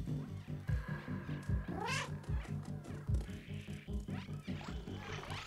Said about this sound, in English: I love how I can meow in this.